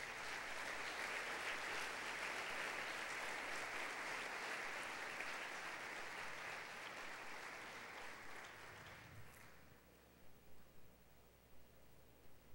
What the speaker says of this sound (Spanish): Den un aplauso a Dios por esa oración.